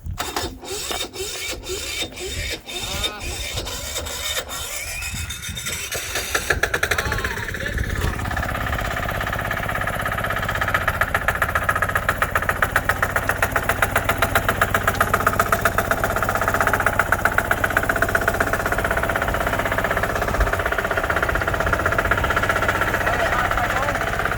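A tractor engine runs close by at a shop, settling into a steady, rapid chugging idle after a few sharp clicking pulses at the start, with voices talking over it at times.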